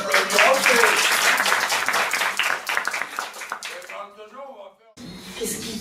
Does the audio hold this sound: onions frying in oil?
no